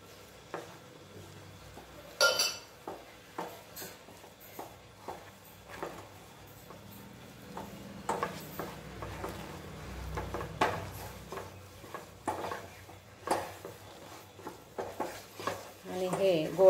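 Sweet fasting barfi mixture stirred in a pan over low heat, soft repeated scraping and tapping of the spoon at an irregular rhythm, with someone talking throughout.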